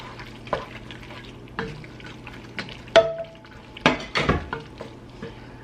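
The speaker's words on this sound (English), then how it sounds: "We're going to add all of this goodness to the pasta. And just stir that around." Pasta with added sauce being stirred in a pot, spaced scrapes and knocks of a utensil against the pot with soft wet squelches, fairly quiet and close.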